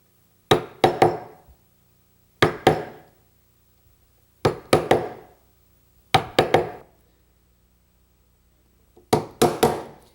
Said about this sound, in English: The next step is to chisel it out.